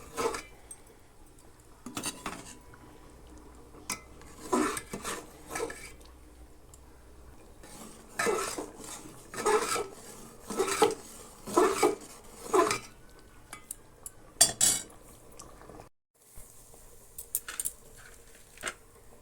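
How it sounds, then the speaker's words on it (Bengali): Masala being mixed into winter-vegetable niramish khichuri in a pot: irregular scraping and clinking of a spoon against the pot, coming in short bursts with brief pauses, fairly close, no talking. "এবার মশলাটা খিচুড়ির মধ্যে দিয়ে ভালো করে মিশিয়ে নিতে হবে"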